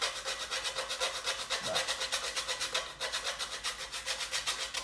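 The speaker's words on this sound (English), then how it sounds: "we're going to just grate a little bit of this nutmeg in" A whole nutmeg is rasped on a grater in a home kitchen, giving quick, even scraping strokes in a steady back-and-forth rhythm, close but fairly quiet.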